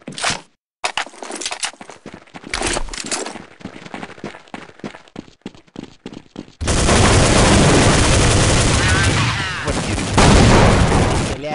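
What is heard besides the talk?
gunfire in the video game Counter-Strike 1.6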